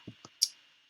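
Three sharp, dry clicks in quick succession from a computer mouse, close and isolated against near silence.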